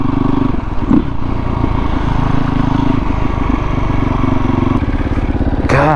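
A motorcycle engine drones close and loud while the bike is being ridden, holding a steady, buzzing tone with small shifts in pitch and a brief rise near the end.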